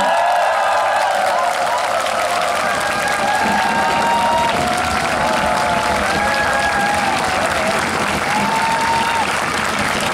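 A concert audience gives a big round of applause for the maestro conductor at a show, thick sustained clapping mixed with cheers and whistles, loud and continuous throughout.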